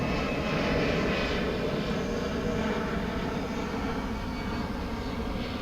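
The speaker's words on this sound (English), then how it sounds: "That plane there in the center of the screen, it looks like it's coming in on the diagonal runway on the east side of the airport" Airplane landing at DFW Airport on the diagonal runway on the east side, a loud steady engine roar that stays near and continuous throughout.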